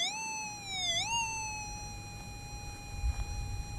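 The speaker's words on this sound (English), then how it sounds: "these larger bits of gold make a really good sound with the SDC" Minelab SDC 2300 metal detector responding to larger gold: a steady, piercing electronic tone that sweeps down and back up once, then holds steady while faint rustling and low bumps sit underneath, no one speaking.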